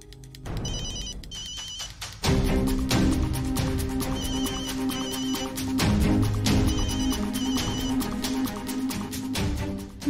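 A telephone rings unanswered in repeated short electronic bursts, regularly spaced, over a busy layer of background sound and music, with no voices.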